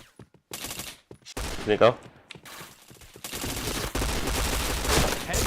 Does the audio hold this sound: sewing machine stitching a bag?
no